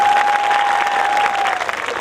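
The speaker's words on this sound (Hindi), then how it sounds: "भाई जोरदार तालियां बजा दीजिए प्रेम चौधरी जी के लिए" Audience applause at Prem Chaudhary's live comedy show at Ramghat, a steady dense clapping that holds for about two seconds, loud and near, with a faint tone running under it.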